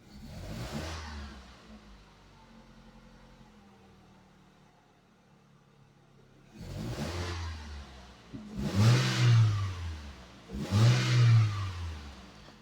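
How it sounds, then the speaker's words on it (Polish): An Opel Astra engine running after valve seal replacement: a steady close idle that settles, then three separate revs swelling and falling back, each louder than the last. "No, maszyna zapaliła. Także chodzi spokojnie."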